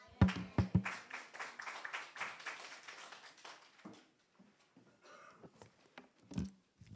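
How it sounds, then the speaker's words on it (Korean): A church congregation at a Korean Sunday worship service breaks into applause after a Bible reading, opening with a few crisp, close hand claps that spread into several seconds of steady patter before fading. "예빈이가 성경 봉독하니까 박수 쳐요"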